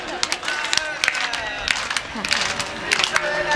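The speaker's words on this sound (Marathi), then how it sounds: "वा वा वा जोरदार टाळ्या वाजवायच्या." Kirtan audience claps in scattered, uneven bursts under ongoing talk and crowd murmur, the claps sharp and fairly close.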